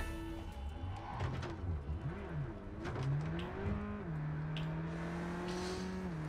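A car engine revving and accelerating through gear changes during a police chase in Cyberpunk 2077, its pitch climbing and dropping repeatedly, fairly quiet under game sound with a few brief tire squeals.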